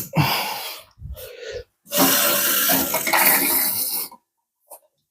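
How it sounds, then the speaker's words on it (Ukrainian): Water rushes in loud, hissing bursts while a hose is filled for a home heating system ahead of winter; several surges start and stop, then the flow cuts off and a faint drip or clink follows. "Так, а тепер ми заповнюємо водою."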